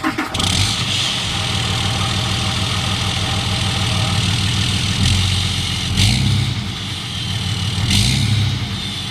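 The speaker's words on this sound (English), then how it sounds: "we're gonna get you guys an exhaust note" A diesel pickup truck cranks and catches, then settles into a steady, loud, throaty idle with a deep exhaust rumble, briefly blipping the throttle twice near the end.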